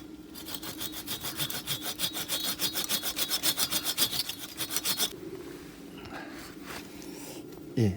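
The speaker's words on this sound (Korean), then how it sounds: "다시 좀 힘들었지만 이렇게 대각선으로 잘랐습니다" A hand saw cuts diagonally through a plum tree branch during pruning, with rapid, rhythmic rasping strokes close by for about five seconds before the sawing stops and faint handling noises follow.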